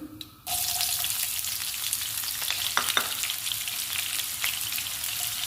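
Onions dropped into hot oil in a pan, a sudden loud sizzle that then settles into a steady, close frying hiss with occasional crackles, no voices.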